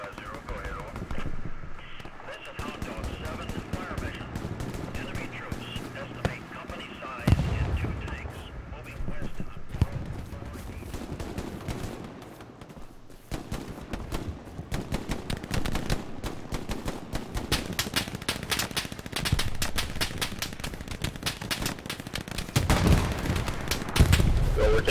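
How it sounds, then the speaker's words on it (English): Machine gun fire in the World War II shooter game Hell Let Loose during a Utah Beach battle, with rapid bursts and scattered gunshots that grow denser and louder over time, while players talk over the gunfire. "Taking MG fire as well as AT fire from the south, southwest."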